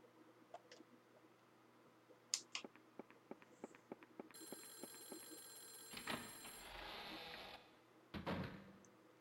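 An old telephone in the Clock Tower horror game rings with a shrill electric bell for a few seconds, following a run of sharp, evenly spaced clicks in an otherwise quiet, dim setting.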